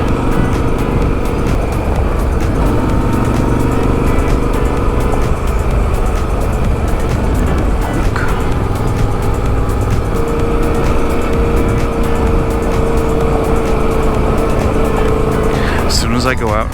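Steady engine drone of a motorcycle (speeder bike) cruising a scenic road on the Trans-America Trail, constant and close with wind rush, continuing unbroken throughout.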